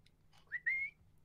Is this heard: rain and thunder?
no